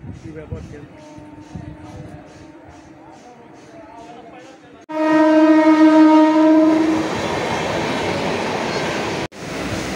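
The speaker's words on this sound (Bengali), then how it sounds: "আমাদের ট্রেন দাঁড়িয়ে গেছে, সামনে একটা ট্রেন দাঁড়িয়েছে দাসনগরে" A local train on the Howrah South line clatters along, quiet at first under faint voices, then a loud horn blares and the rumble of carriages swells close and steady.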